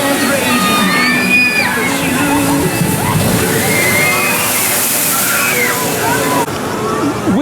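A boat on a Kings Island water ride crashes down into the pool, sending up a steady roar of sloshing, churning water that goes on for several seconds, with faint riders' shouts mixed in.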